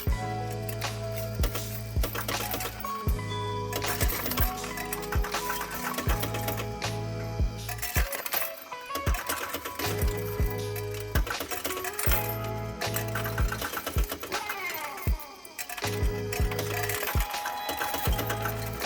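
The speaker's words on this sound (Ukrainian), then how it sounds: "Банкомат здійснює підрахунок монет" A coin counting machine at a Volksbank branch whirs continuously while coins clatter and clink through it in rapid bursts, pausing briefly between runs.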